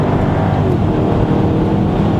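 A Jaguar driving around the Oulton Park race track in second gear, its engine a steady, relaxed, moderately loud drone with continuous road and wind rumble and no talk.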